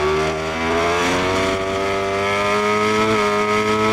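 A 1000cc MotoGP motorcycle in the TrackDayR racing game drones at a loud, steady rev with the throttle feathered, its pitch sliding slightly up and down and never cutting out.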